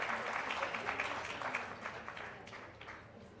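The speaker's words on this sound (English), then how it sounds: "a louder round of applause would be appreciated." Applause from a business summit audience at a ministerial plenary session, a steady, dense round of clapping from a large seated crowd that gradually tapers off over a few seconds.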